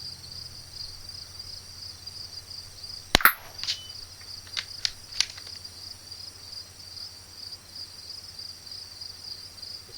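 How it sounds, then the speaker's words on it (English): A single sharp crack of a .22lr rifle firing Eley Club ammunition at a target outdoors, loud and brief, followed by faint metallic pings, over a steady background of insects chirping. "So I'm just going to shoot about the 5 inch target, the one in the middle."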